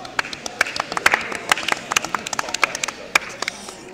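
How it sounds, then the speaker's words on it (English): People clap at home, giving sparse, uneven hand claps with some sharp loud strikes and softer ones scattered over a few seconds. Faint background noise runs underneath. "Your claps are so loud, Obed."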